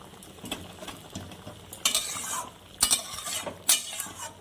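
Aloo potol curry with slit green chilies cooking in a pan, soft sizzling under a few sharp spoon-against-pan scrapes and stirs, close and fairly quiet.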